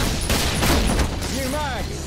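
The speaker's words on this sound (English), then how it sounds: "Boomstick time." Boomstick double-barrelled shotgun blasts in the zombie shooter Killing Floor, a dense burst of loud booming gunfire with a voice speaking over it.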